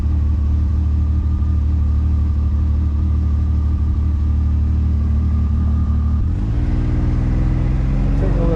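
A car engine rumbles at low revs from inside the cab, a steady drone that shifts and rises near the end as the vehicle turns and drives onto a property off a road in rural Canada.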